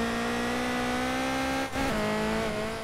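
A car drifts in a sim racing video game, its engine holding a steady high drone with a continuous tire squeal layered over it and a brief dip as the throttle lifts, with no talk.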